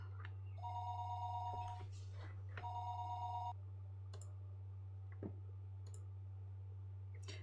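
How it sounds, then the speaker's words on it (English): Telephone ringing, two electronic ring bursts in quick succession followed by quiet with scattered faint clicks, all over a constant low hum. "The phone rang for a third time."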